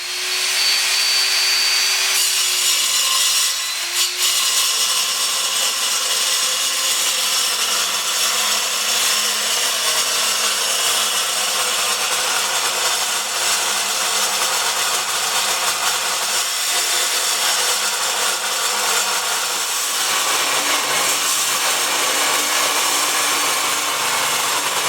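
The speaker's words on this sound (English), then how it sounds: "I'd like to try to get it cut in half. So, yeah, cover your ears. I don't know how loud this saw is." A borrowed power saw grinds steadily through a truck's rear metal bumper, a loud, close, continuous abrasive rasp with a brief pause near the start and slight shifts in pitch as the cut progresses.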